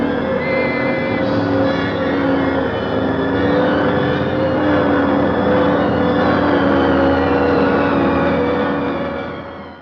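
A car pulls away quickly in a tense escape, its engine loud and steady throughout, with a sustained roar that holds at near level before easing slightly at the end.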